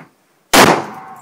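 A single sharp, loud gunshot from a .500 S&W revolver cracks out of silence, then rings and decays with a lingering metallic tail.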